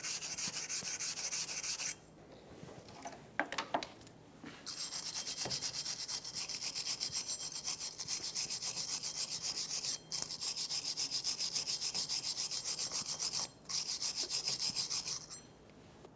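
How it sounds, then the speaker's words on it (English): A wire brush scrubs rust off the rear brake hub of a 2014-2021 Mazda 6, a steady, close, harsh scraping that runs almost continuously with a few short pauses, and no talking. "Just go around and wire brush all of the rust off."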